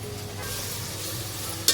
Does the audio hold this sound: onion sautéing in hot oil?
yes